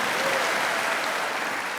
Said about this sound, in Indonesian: Oh, berikan tepuk tangan yang meriah.